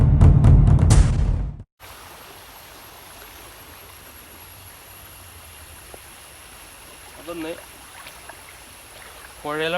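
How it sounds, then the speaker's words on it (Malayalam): A river flows with a soft, continuous rushing hiss, faint and steady in the background; someone speaks briefly at the start and faint voices return near the end. "പുഴയിലാണ് ഇപ്പോൾ ഉള്ളത്."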